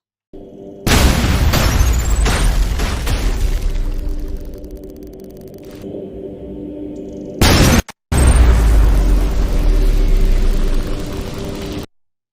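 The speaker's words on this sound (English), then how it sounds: "Starting with the improved" Game explosions from the shooter ULTRAKILL, a run of loud, dense booming blasts that overlap and roar for several seconds, cut off briefly, then resume as another sustained explosive rumble.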